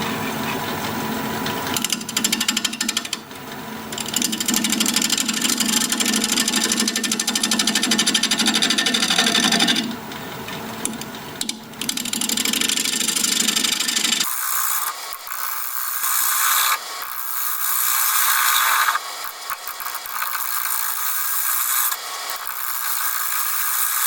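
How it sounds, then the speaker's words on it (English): Cherry bowl spinning on a wood lathe at 750 RPM, cut with a 5/8 inch bowl gouge: a steady scraping, rubbing hiss with a low hum that drops away midway, leaving brighter intermittent cutting passes. "We're going to be turning at 750 RPM, 5/8 inch bowl gouge"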